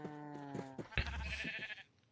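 Sheep in a Minecraft modded mob farm pen bleating twice in quick succession, a wavering nasal call followed by a shorter one, clear and close.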